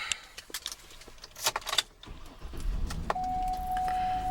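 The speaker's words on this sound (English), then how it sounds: "Let me go ahead and get inside and get it started for you." Keys jingle and a door thuds shut, then a 2007 Cadillac Escalade ESV AWD engine cranks and settles into a steady idle with a faint electronic chime tone.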